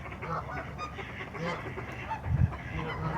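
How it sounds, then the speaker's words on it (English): Geese and ducks honk and call at a goose pond, with a few nearby squawks and one louder honk, over a soft outdoor background and faint voices. "These ducks with their gentle grace flow through the waters, bringing a quiet wisdom."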